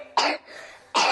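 Two loud, harsh coughs from a character in a children's cartoon about a cough, the first short and the second cut off at the end, with a quiet breathy gap between them.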